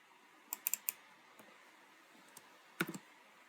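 Quick keystrokes on a computer keyboard, a cluster of light clicks early on, then a single tap and a final short burst, faint and close in a quiet room.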